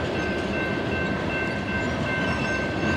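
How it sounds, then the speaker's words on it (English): Steady, loud rumble of a BNSF empty coal train's locomotives pulling away, a continuous low engine drone with a faint high tone running throughout, no voices. "this empty coal train sitting is about to make its move"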